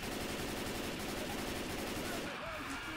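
Rapid, continuous gunfire from Left 4 Dead 2, a survival map defending a bridge, rattling densely and loudly for the full stretch and easing slightly near the end.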